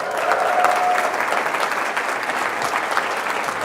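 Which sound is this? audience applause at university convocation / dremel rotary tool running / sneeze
audience applause at university convocation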